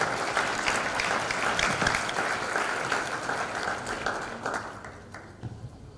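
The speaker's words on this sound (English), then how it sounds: "let's give them a round of applause" Conference audience at a Balkans security event applauding the panelists: full, dense clapping that gradually thins and fades, ending in a few scattered late claps.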